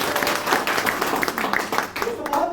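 An audience applauds at a DXN motivational seminar, a dense, steady patter of many hands clapping close by for a few seconds, with a voice speaking over it.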